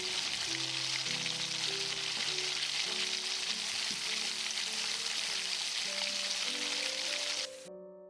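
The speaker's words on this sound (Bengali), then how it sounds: "আস্তে আস্তে ফুলকপিগুলোকে দিয়ে ভালো করে ভেজে নিচ্ছি এবং এর সাথে কেটে রাখা আলুগুলোও আমরা দিয়ে ভালো করে ভেজে নিচ্ছি" Cauliflower florets and cut potatoes fry in hot oil for a Bengali-style dish, giving a steady, even sizzle like light rain, with background music playing over it until the sound cuts off near the end.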